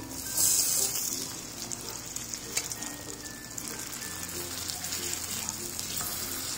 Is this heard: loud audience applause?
no